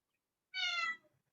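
A single short cat meow, clear and fairly quiet, rises out of near silence and fades quickly.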